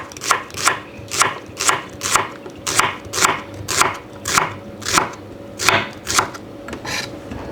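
Banana shallots are sliced with a knife on a board in an even series of crisp, close chopping strokes at a steady rhythm.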